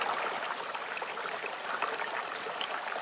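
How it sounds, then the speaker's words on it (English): A small babbling brook near a camp in the remote Kimberley, its water rushing and bubbling in a steady, soft wash with faint splashy flickers throughout, alone with no voices. "This is just going to go and check out the little babbling brook."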